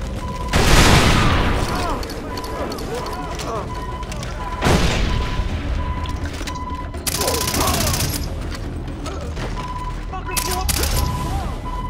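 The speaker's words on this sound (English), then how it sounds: "some hand grenades should be good." Hand grenades go off in the video game Far Cry 3, producing several loud, broad blasts spaced a few seconds apart, each with a rumbling tail, amid continuous gunfire-like game noise and a steady tone, with someone talking over it.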